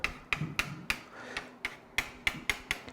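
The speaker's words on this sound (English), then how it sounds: "So I'll start hammering here and then work my way out." A hammer striking a bent steel hand saw blade to straighten it, working from the middle outward: about ten sharp, evenly spaced metallic taps, close and alone.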